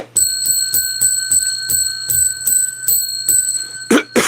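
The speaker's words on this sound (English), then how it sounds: "Oh, I got to ring the bell." A bell is struck ten times in an even rhythm, each bright metallic ring sharp at onset with a sustained ringing tone between hits, close and loud, followed by a brief rustle at the end.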